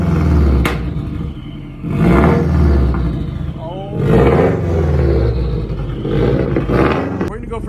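A Subaru WRX fitted with a Tomei exhaust is revved close by in several loud, rumbling bursts. Each rise in pitch drops back to idle between the blips.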